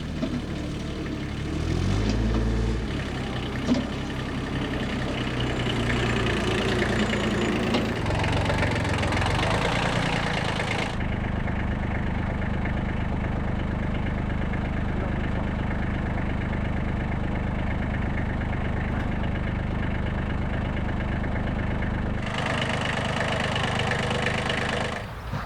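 Mini excavator diesel engine idling steadily and loudly up close, with a rougher, busier stretch at first and an even drone throughout, no talking.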